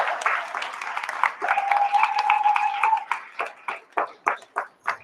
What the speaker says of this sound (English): we're going to give a big round of applause for Dr. Dream